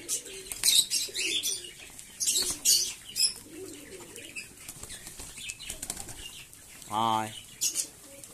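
Pigeons at night feeding from the hand: bursts of loud, close wing flapping come and go, with low cooing and one rising coo near the end, and a person calls softly in between.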